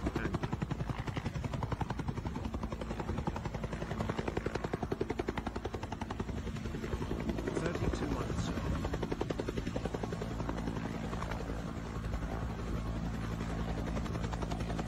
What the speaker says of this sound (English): This helicopter landing on the trailer.